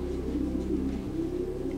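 Racing pigeons in a loft coo steadily, a low continuous murmur of several birds close by, with no talking.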